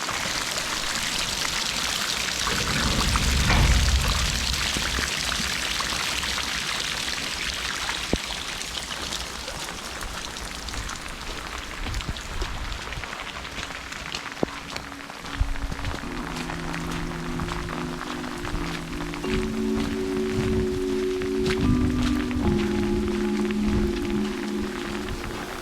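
Heavy storm rain and rushing floodwater on a farm in Portugal make a steady, broad hiss and wash close by that lasts throughout, joined near the end by some faint tonal sounds.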